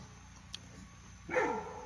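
A dog barks once or twice outdoors near a pile of burned stumps, a short bark rising over a steady background hum, moderately near.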